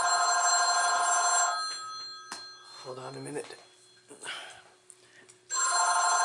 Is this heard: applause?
no